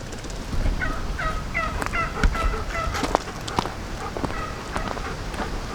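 Farmyard poultry, turkeys among them, gobble and call in repeated bursts close by, over steady outdoor background noise.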